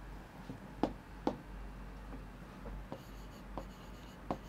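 Pen strokes from handwriting during a Class 9 maths lesson give a series of soft scratches and taps spaced irregularly, faint and close, over quiet room hum.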